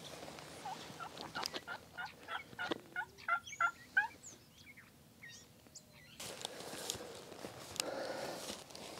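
A wild turkey gobbles several times in quick succession during a Nebraska spring turkey hunt, moderately distant, followed by rustling footsteps and outdoor background noise.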